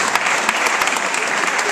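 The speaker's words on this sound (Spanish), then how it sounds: "Ismael, le damos un fuerte aplauso, sí, Caserío Chechitzí." Loud, dense applause from a crowd during a mayor's visit to a rural community, steady clapping filling the whole moment without pause.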